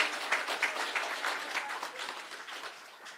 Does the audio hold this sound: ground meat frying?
no